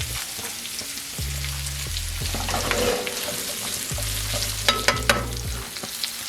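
Garlic asparagus is tossed and sautéed in a pan, giving a steady sizzle with scraping stir sounds and a couple of sharper clanks near the end, close by and without talk.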